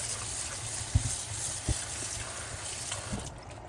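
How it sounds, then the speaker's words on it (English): Shredded hash browns are rinsed in a kitchen sink under running water, giving a steady faint gush with a couple of soft knocks, up close and without talk. "I'm gonna take it to the sink, wash it off, and strain it."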